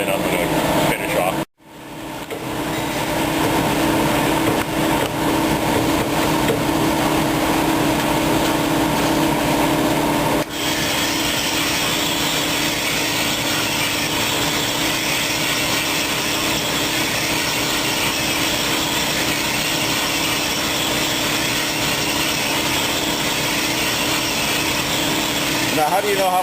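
Engine cylinder bores being honed with a roughing stone in a machine shop give a steady, loud, continuous grinding whir with a brief dropout near the start and a slight shift partway through, with no talk over it.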